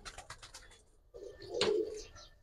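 An Indian High Flyer pigeon, one of a flock of tumbler-type birds in a loft, gives a low throaty coo that swells midway after faint earlier bird calls, fairly close and moderately loud.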